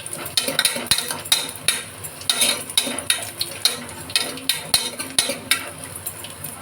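A spoon scrapes and clinks steadily against a pot while tamarind-leaf dal is stirred, at roughly two strokes a second, close and moderately quiet, with no talking.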